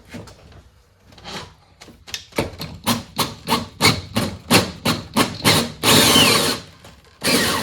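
A power drill whirs in a rapid series of short bursts, about a dozen in a row, drilling holes in a new race car nose, ending with two longer sustained runs.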